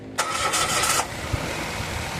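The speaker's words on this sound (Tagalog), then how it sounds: "Pag okay na, pwede nyo nang start itong makina." A Mitsubishi Mirage G4 car engine cranks briefly and catches, then settles into a steady idle nearby.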